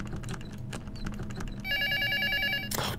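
A telephone rings in the horror video game Luto, a bright repeated electronic trill that rises over faint clicking and background ambience, fairly close and clear with no speech.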